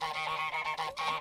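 A cartoon goose from Untitled Goose Game honks repeatedly in quick succession, loud and nasal, several bursts filling the short moment with no talk.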